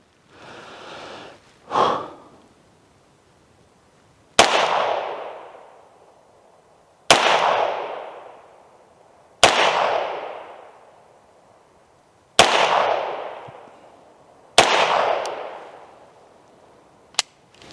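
A Beretta 92XI Gara pistol fires Federal ammunition in six sharp, loud shots spaced a few seconds apart, each with a ringing decay. A softer breathy puff and a thump come before the first shot.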